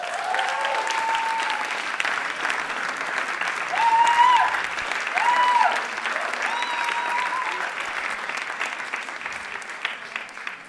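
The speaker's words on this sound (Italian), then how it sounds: "Mi fate un applauso?" An audience at a comedy show breaks into sustained applause, a dense steady clatter of many hands that swells briefly midway and carries on for about ten seconds.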